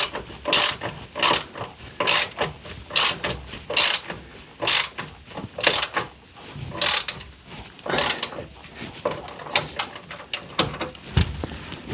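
Ratchet wrench tightening cylinder head bolts on a Ford Mustang engine: rapid repeated clicking strokes in regular bursts, close and fairly loud, with short pauses between pulls.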